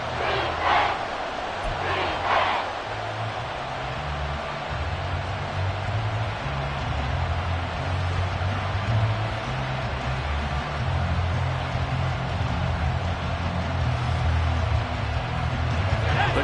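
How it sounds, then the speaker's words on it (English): Crowd noise inside a domed football stadium, a dense, steady roar of many voices that fills the whole stretch, with a few louder shouts rising near the start. "Crowd here in the Dome making things difficult."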